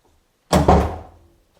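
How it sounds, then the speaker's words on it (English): A door closes in a hotel, landing as a single loud thud with a quick double impact and a short fading resonance in an otherwise quiet space. "I don't remember if that was the same door sound"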